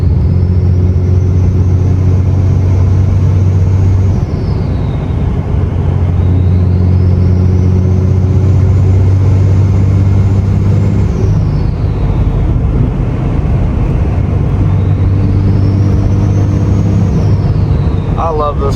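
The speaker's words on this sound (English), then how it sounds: "And just listen to that turbo." Turbocharged third-generation pickup truck driving on a foggy day, its turbo whistling in long rising and falling sweeps over a steady, loud engine drone and road rumble.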